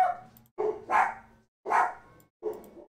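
Several dogs barking in a home, loud, close bursts of barks in four separate volleys with short silent gaps between them, with no talking over them.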